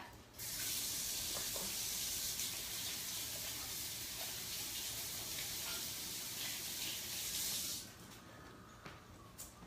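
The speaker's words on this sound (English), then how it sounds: "Let me wash my hands before I do the next step." A kitchen tap runs steadily for about seven seconds as hands are washed under it, a close, even hiss of water that cuts off near the end.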